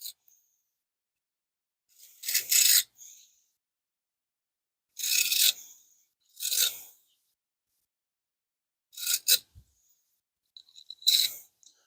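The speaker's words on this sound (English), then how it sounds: "So let's get the wire brush, get all the threads cleaned out." A wire brush scrubs the threads of bolts during a 2012 Impala LTZ repair, giving five short bursts of raspy scraping separated by quiet pauses, close and fairly soft.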